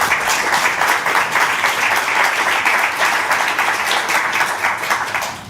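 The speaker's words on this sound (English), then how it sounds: "A round of applause for all of them." Audience applause for a panel of guests at a live climate and development finance event, steady dense clapping filling the room at full volume throughout.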